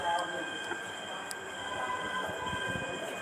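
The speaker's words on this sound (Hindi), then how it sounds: "ट्रेनें आ गई अब तो" A train rolls into an Indian railway station with a faint low rumble and steady hum, distant and blended with background voices of people talking on the platform.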